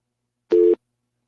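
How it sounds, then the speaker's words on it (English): A telephone line tone sounds after a radio call-in caller drops off: a single steady electronic beep about a quarter second long, clean and alone against silence. "it looks like a dial tone"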